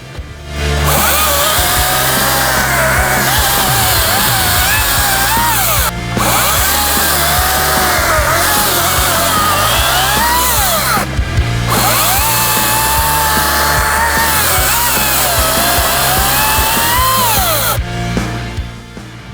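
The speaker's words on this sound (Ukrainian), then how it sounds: "вже ось натиснули і пилка готова до роботи" Loud, continuous motor whine of a GTM 56V cordless chainsaw cutting, with steady high-pitched buzzing and brief pauses between cuts; no speech.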